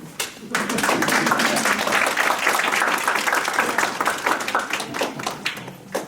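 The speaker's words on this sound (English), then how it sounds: "And now, everyone else, applaud yourself." Family and friends at a massage therapy graduation ceremony clap for themselves, many hands producing a full, loud burst of applause that swells quickly and then holds steady before easing slightly at the end.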